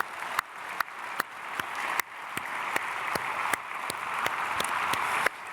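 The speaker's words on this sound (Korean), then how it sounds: "우리 박수로 축복하겠습니다." A church congregation at an early-morning prayer service at Myungsung Church claps in blessing: a soft, continuous patter of applause with occasional sharper, louder claps standing out.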